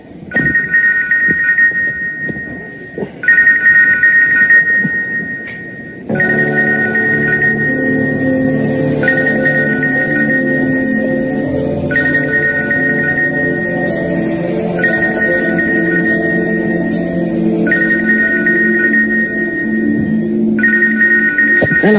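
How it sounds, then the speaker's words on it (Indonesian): A mobile phone ringtone trills in repeated bursts, loud and close, with a steady musical tune playing beneath the rings. "HP ku bising kali itu, Dur."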